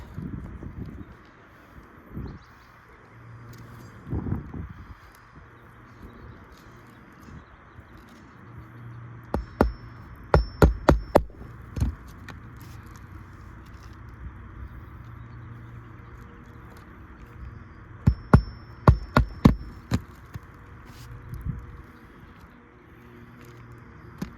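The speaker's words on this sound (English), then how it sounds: "Now we're gonna start nailing the new shingle down." Hammer blows driving nails into new roof shingles outdoors, two quick bursts of sharp, close strikes with quiet wind and distant ambience between them.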